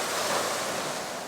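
Ocean surf rolls onto the beach at Hikkaduwa, Sri Lanka, a loud, continuous wash of breaking waves with some wind rumble, close by and without voices.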